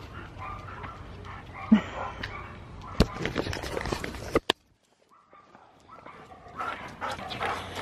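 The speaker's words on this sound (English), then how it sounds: "the neighbour's dogs are barking at you." Dogs bark and yip in short bursts at a moderate distance, with footsteps and brief sharp noises, followed by a quiet pause and more rustling.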